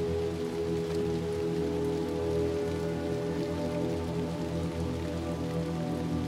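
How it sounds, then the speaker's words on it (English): Rain falls steadily in the video game Little Nightmares II, a continuous pattering hiss on surfaces over a low droning background, even in level and uninterrupted, with no talking. "Oh, back into the rain"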